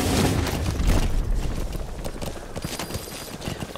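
Horse hooves clip-clopping in a quick galloping rhythm in the video game Metal Gear Solid 5, close and fairly loud, fading slightly toward the end.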